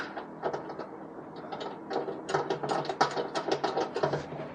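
A ratchet snugs a bolt on a Duraflap bracket of a pickup truck, with rapid, close clicking pawl bursts, sparse at first and then a dense run of quick ratcheting strokes, with no talking.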